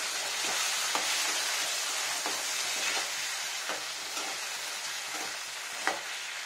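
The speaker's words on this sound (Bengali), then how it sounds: "ভালো করে মিশিয়ে দিই" Potato and pointed gourd curry being stirred in a pan, a steady close frying sizzle broken by a few soft clicks of the spoon against the pan, with no talking.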